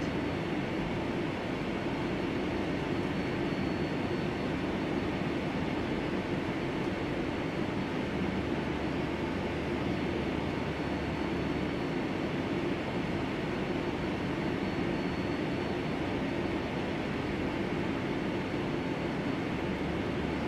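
A QualityWings 757-300 airliner lands in a flight simulator game, giving a steady, moderate engine and airframe rumble that runs without a break and without any voice over it.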